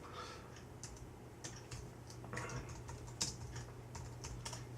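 Fingers tap quickly on a computer keyboard while writing database table code, irregular bursts of close, crisp key clicks over a faint steady hum.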